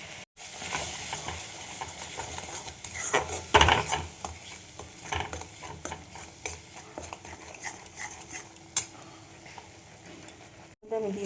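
Soybean curry being stirred and fried in a pan with cumin, coriander and chilli powder, garam masala and salt, giving a steady sizzle with repeated scraping stirs and utensil clinks at moderate loudness.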